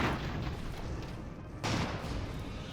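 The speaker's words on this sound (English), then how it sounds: "there's the torpedoes going in, or the aerial charges" Weapons firing during an Airships: Conquer the Skies battle as torpedoes or aerial charges go in: a steady dense rumble of distant gunfire and booms, with a louder burst landing about halfway through.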